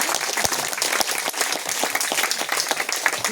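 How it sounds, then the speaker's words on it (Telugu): Hand clapping at a spiritual teaching session, a dense, steady run of claps that continues close and loud without any pause. "ఒకసారి నా చప్పట్లు కొట్టుకుంటాను"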